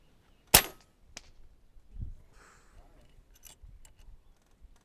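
A JSAR Raptor airgun fired on an outdoor range, one sharp close crack followed by fainter clicks and handling noises, with quiet talking nearby.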